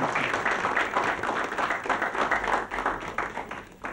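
Studio audience clapping at an Indonesian entertainment show, steady and fairly loud, sustained for several seconds as one continuous patter.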